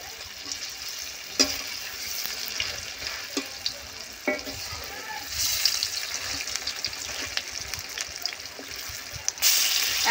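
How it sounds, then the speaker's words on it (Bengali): Lentil and ridge gourd fritters fry in hot oil with a continuous sizzle, broken by occasional sharp clicks and scrapes as they are turned in the pan. "ভেজে নেব বেশ ভালো করে"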